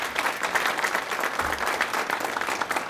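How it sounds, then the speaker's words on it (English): Audience applause for elected officials at a Martin Luther King Jr. celebration, a close, full burst of crowd clapping sustained throughout with no speech over it. "Give them all a big round of applause again."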